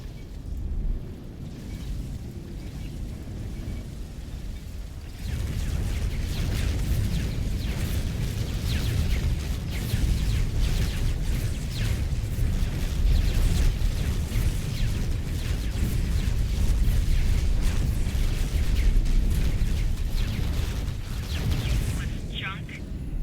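Explosions rumble through a big space battle in X4: Foundations, a continuous low booming wash with dense crackling blasts that thickens after a quieter start, with someone talking over it.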